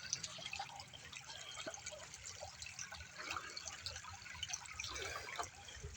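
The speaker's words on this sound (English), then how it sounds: "But here's the creek." A creek flows past in the countryside, a faint, steady trickle and babble of water close by for several seconds, with no talking.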